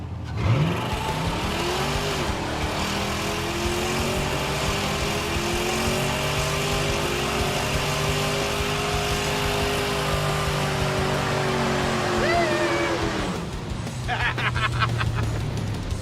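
A 1986 Pontiac Firebird Trans Am doing a burnout, its engine held at a loud sustained roar for over ten seconds before easing off, with voices talking over it.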